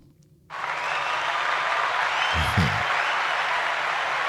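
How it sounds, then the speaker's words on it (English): Podcast hosts give a short round of clapping at the end of an episode. It starts abruptly after a brief quiet moment and carries on as a steady, close clatter, with a small thump partway through. "A little clap out."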